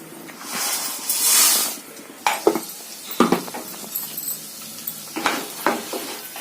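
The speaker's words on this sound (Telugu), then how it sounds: "వీటిని కొంచెం మీడియం ఫ్లేమ్లో పెట్టుకుని వేయించుకోవాలి." Cumin, urad dal, chana dal and peanuts fry in oil over medium flame for tamarind rice, a soft sizzle broken by repeated sharp scrapes and stirring clatter up close.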